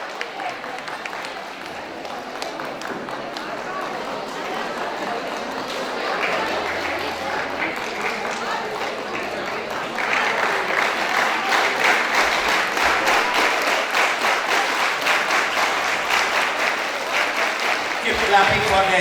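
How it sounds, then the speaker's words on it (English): Sustained applause from a school audience at a mathematics day event, cheering equal winners; dense clapping runs throughout and swells louder partway through, with a voice briefly audible at the start. "Keep clapping for them."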